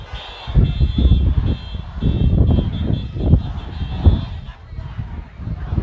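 Car horns honk in traffic at a street Black Lives Matter protest, a steady high tone with repeated bursts over engine rumble and crowd noise, with voices talking nearby.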